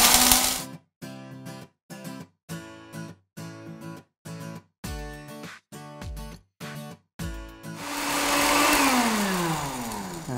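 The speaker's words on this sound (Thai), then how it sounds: "เดี๋ยวเราจะเอาซวงเจียนะครับใส่ลงไปในเครื่องปั่นนะครับทำด้วยเม็ดพริกไทยดำครับลูกผักชีครับยี่หร่าครับแล้วก็ปั่นเลย" An electric blender grinding Sichuan pepper, black peppercorns, coriander seed and cumin, pulsed in about a dozen short loud bursts, then run continuously with a rising whine, close up with no talk.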